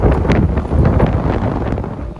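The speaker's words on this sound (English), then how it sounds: "That kind of wind can ruin your day" Strong wind sweeps across a beach camp by the Sea of Cortez in Baja, a steady loud roar battering the microphone with slight surging gusts and no voices.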